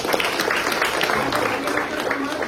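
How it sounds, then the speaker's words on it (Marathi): Audience applause at a village gathering in Maharashtra honoring a local achiever, a steady wash of clapping from a crowd with a voice faintly over it. "तिच्यासाठी पुन्हा एकदा जोरदार टाळ्या"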